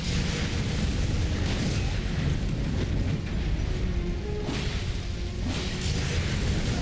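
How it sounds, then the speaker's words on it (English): A boss's claw strike in the Elden Ring video game, in the Subterranean Shunning-Grounds, followed by a deep booming explosion: a dense, loud roar of rumble and burst that fills the whole stretch with no pause. "There's that claw and then follow-up explosion."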